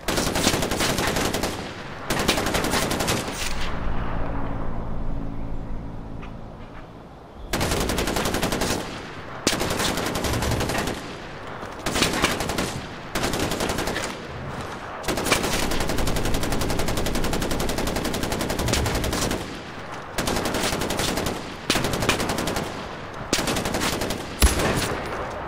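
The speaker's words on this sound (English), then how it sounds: "Shooting at the target" Rapid automatic gunfire in the video game Far Cry 4 hammers at a target in loud, sustained bursts, broken by brief pauses and one longer lull, dense and close throughout.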